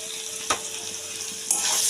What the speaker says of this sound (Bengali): একটু হলুদ, একটু নুন দিয়ে হালকা করে আমি ভেজে নিচ্ছি